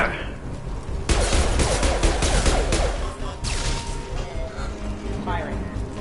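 Gunfire from security mechs in Mass Effect 2, a dense fusillade of rapid shots, loud and close, with voices talking during the exchange.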